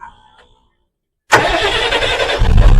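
A Delhi green line bus engine cranks and restarts after a brief silence, catching abruptly and settling into a loud, rough diesel idle that grows heavier toward the end.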